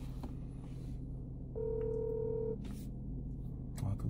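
A single outgoing phone ringback tone sounds for about a second over steady low background hum, with a faint electronic beep pattern repeating in the quiet, calling a friend who does not pick up.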